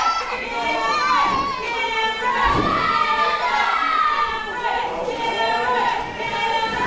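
A wrestling event crowd reacting to wrestler Jordan James, a dense wash of shouting and chatter with a whistle-like cheer rising in the middle, fairly loud and continuous.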